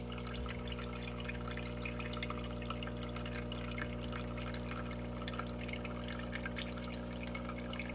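A De'Longhi Eletta Explore coffee machine pumping water through its system during descaling, a steady low mechanical hum with faint trickling and gurgling water on top, constant and close, with no talk.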